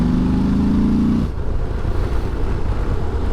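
A Morbidelli T200V V-twin adventure motorcycle engine chugs with a steady low throb, loud and close, then the tone cuts away into rumbling wind and road noise.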